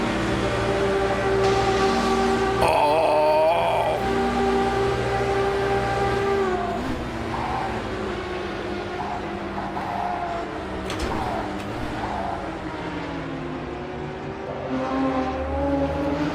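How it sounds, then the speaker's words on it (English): A historic race car at Le Mans in a sim race brakes into a corner with a rising and falling engine note and repeated downshifts, loud and close, with a steady mechanical drone throughout. "You could hear like they were pumping the brake. Or is that a downshift sound or something?"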